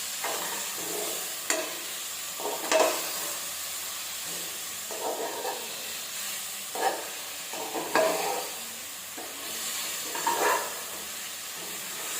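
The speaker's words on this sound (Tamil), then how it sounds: "கீரை நல்லா கொஞ்சம் வதங்கட்டும்." Ground mookirattai keerai greens sauté in a pan with cooked-down tomatoes for a healthy greens soup, giving a steady soft hiss broken by several sharper scraping stirs at close range, with no talking.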